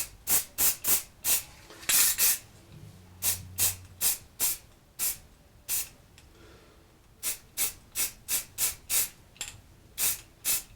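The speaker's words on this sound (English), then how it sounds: "I'm really light touch with this spray" Short, rhythmic bursts of aerosol spray hiss, dozens of quick pumps in a row with brief pauses, close and fairly loud.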